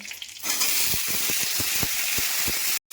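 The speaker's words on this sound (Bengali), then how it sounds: "সর্ষে দিচ্ছি এবার কারি পাতা দিয়ে দিচ্ছি দিয়ে দিচ্ছি দুটো শুকনো লঙ্কা" Mustard seeds, curry leaves and dried red chillies sizzling in hot oil in a pan, a steady loud crackling hiss with sharp popping bursts throughout, cutting off abruptly near the end.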